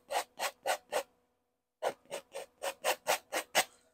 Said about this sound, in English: we'll scrape some of this out